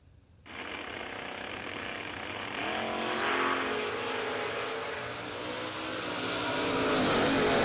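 Drag race cars, including a wagon, launch down the strip after a brief quiet start, their loud engine roar rising abruptly and holding steady, then swelling again toward the end with no talk over it.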